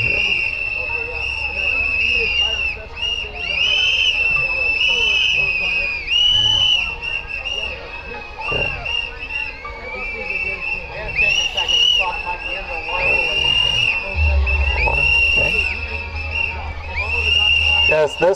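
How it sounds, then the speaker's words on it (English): Protesters at a Pride event blow shrill whistles and make noise at a street preacher, the sharp whistle blasts repeating throughout amid a crowd's babble and traffic. "They use silly noises, whistles, they bark like dogs, they howl like wolves."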